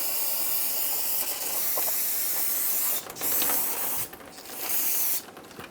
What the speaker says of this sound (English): Using brake parts cleaner, we're going to spray the backing plate, getting all of the brake dust off of it.